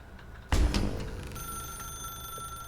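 A telephone rings in The Stanley Parable: Ultra Deluxe, a sudden bright metallic ring that strikes once and leaves a sustained, fading tone hanging afterward.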